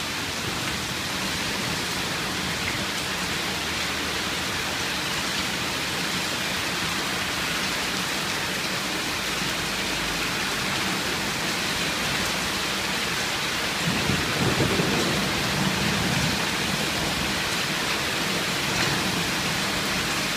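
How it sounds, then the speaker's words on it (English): Small pea-sized hail falls during a Sydney storm, a dense continuous roar of hits on surfaces with a brief low rumble partway through. "Small pea-sized hail at the moment."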